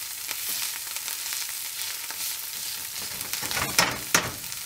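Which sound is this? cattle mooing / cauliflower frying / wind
cauliflower frying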